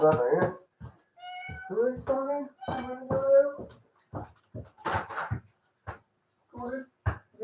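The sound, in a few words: cat meowing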